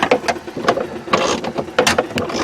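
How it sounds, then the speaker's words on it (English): A custom puller draws the jet pump out of a 1990 Sea-Doo GT watercraft, giving close irregular metallic clanks, ratcheting clicks and scraping knocks in a busy uneven rhythm. "here's a little bit of video of our custom puller. Pulling the pump out"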